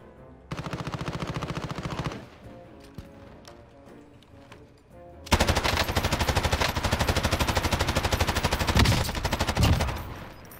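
Rapid automatic gunfire in Call of Duty Warzone, a short burst followed by a long, loud sustained stretch of fast repeated shots from about five seconds on.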